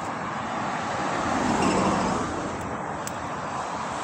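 A car rolls into an expressway bus stop area at night near Eniwa on the Hokkaido Expressway, a steady broadband road rumble that swells slightly in the middle, fairly close, with no voices.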